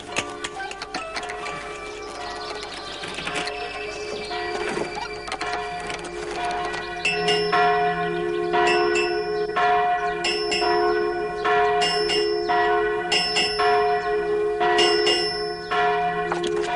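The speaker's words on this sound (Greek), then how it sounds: "Ακούγονται καμπάνες." Town church bells in an anime peal steadily with overlapping, sustained metallic tones, growing fuller partway through as regular struck strokes sound alone without voices.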